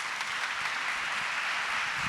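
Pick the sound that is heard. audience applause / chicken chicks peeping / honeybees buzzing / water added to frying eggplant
audience applause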